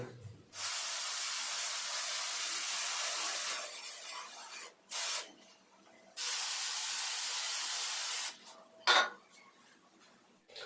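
Adhesive spray for sticking acoustic foam to a wall hisses out of an aerosol can in two long bursts and a few short ones, with quiet gaps between them and no talking.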